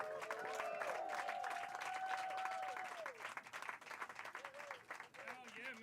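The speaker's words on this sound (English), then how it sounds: "Everyone start clapping right now for Marcus Banks, everybody." A comedy-club crowd at a stand-up showcase claps and cheers for the comedian, a steady moderate applause running under an announcer's voice, which rises over it before the clapping thins out.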